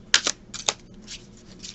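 Tarot cards are shuffled by hand in a quiet room: a few crisp riffling snaps near the start, then softer shuffling rustles fading out.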